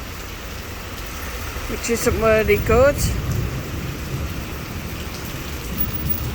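Heavy rain pours steadily during an electrical storm in Benidorm, with a low rumble of thunder swelling briefly in the middle while someone speaks over it.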